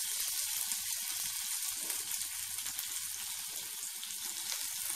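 Ginger and garlic fry in hot oil in a pan while cooking egg chicken chow, giving a steady, close hiss of sizzling that holds evenly throughout, with faint stirring clatter underneath and no voices.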